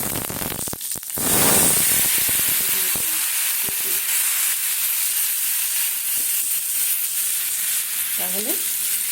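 Turmeric and Kashmiri chilli powder dropped into hot oil for a turnip curry, giving a steady close sizzle and frying hiss with a few stirring clinks, no talk.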